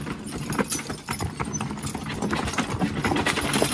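A team of heavyweight pulling horses walks through a logging job, their hooves clip-clopping in a steady, uneven rhythm close by, with faint jingling harness and no talking.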